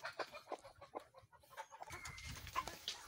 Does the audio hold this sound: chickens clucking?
yes